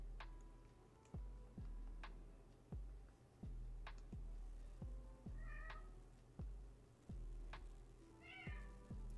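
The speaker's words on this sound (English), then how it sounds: "Cat, be quiet." Cat meowing indoors, two short faint mews against a steady ticking rhythm of clicks in a quiet room.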